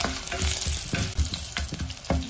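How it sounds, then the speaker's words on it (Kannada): Curry leaves hit hot tempering oil with browned chana dal and urad dal, crackling and sizzling up close while a spoon stirs in a steady rhythm, with no talking. "ಈಗ ಇದಕ್ಕೆ 1 ಎಸಳಿನಷ್ಟು ಕರಿಬೇವಿನ ಸೊಪ್ಪನ್ನ ಕೂಡ ಸೇರಿಸ್ತಾ ಇದ್ದೀನಿ"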